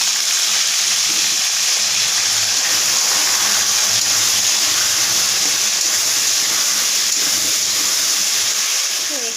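Potatoes and taro frying in a pan, a steady loud hiss and sizzle running without a break, with no talking.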